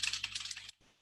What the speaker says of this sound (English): I'm sorry you're hearing my keyboard